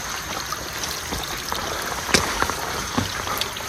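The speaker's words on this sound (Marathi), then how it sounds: "पावसाळ्यामध्ये हे बघा पावसाचं पाणी कशा प्रकारे वाहतंय पायरीवरून." Monsoon rainwater flowing down the stone steps of Tikona Fort, a steady trickling stream with a few louder splashes and drips, fairly close, with no talk.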